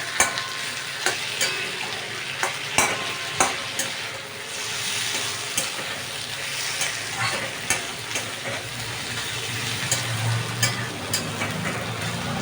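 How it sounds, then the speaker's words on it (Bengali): Pointed gourd curry with leftover dal puri filling sautéing in a pan, a steady frying sizzle broken by regular scraping stir strokes every second or so, close and alone with no talk. "দেখো ভালো করে কষানো হয়ে আসছে"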